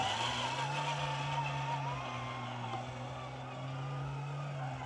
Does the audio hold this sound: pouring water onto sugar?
no